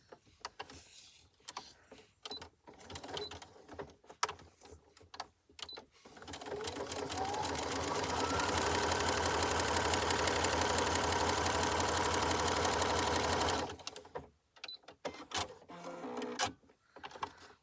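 A sewing machine stitches a paper card bellyband in one loud, steady whirring run of about seven seconds. Scattered handling clicks and rustles come before and after it.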